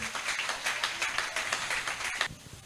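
Congregation clapping in a steady rhythmic beat at a church service, moderately loud and continuous with a sharp clap near the end before fading.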